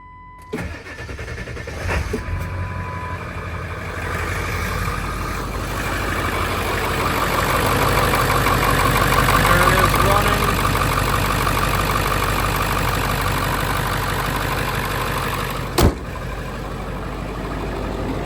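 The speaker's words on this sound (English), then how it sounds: "I'm gonna start the truck up." A 2000 Ford F250 truck with the 7.3 Powerstroke diesel cranks and fires up, then settles into a steady, loud, close diesel idle rumble that continues to the end, with a sharp click near the close.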